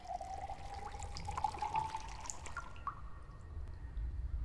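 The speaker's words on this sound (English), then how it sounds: "Ah, water." Water drips inside the video game Desolate, a faint watery trickle with a thin sustained tone and a few soft splashes over a low ambient rumble.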